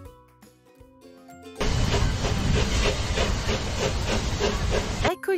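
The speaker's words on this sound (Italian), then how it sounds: "Ecco il treno." A train pulls into a station with a loud, sustained steamy hiss and rhythmic mechanical chuffing, preceded by a brief quieter musical passage.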